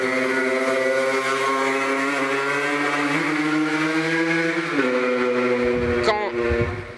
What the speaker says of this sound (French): on va laisser passer encore une autre petite moto